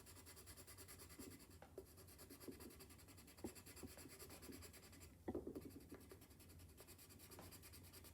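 Yellow colored pencil pressed hard against paper while drawing, giving a steady close scratchy rubbing with short repeated strokes and a few sharper taps, alone without talk.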